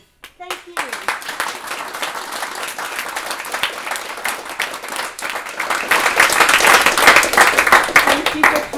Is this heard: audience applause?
yes